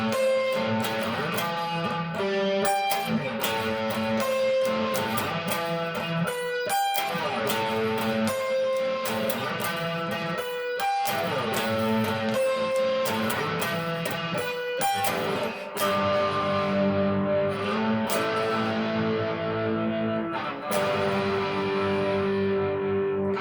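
Distorted electric guitar plays the verse of a song through an effects unit, a steady, loud run of picked notes and chords lasting the whole stretch with no talking.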